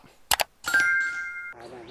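A bright notification bell dings once, ringing clearly for under a second after a couple of quick clicks, with no one talking.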